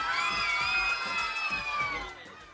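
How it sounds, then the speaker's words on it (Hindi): Studio crowd at a Pakistani morning television show claps and cheers loudly, with high whoops and shouting over a continuous, even roar of applause that eases off a little at the end. "इनके लिए तालियां बजाइए।"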